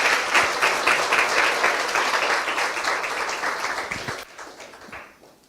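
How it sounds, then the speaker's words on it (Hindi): A church congregation breaks into a loud round of applause for Jesus, dense hand clapping that holds steady and then tapers off near the end. "आइए यीशु के लिए एक जोरदार ताली बजाएं।"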